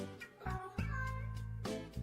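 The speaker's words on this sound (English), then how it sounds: "Why do you have to go meow? You just got here." A cat meowing during a video game livestream, a few drawn-out close meows in quick succession, fairly clear with little else around.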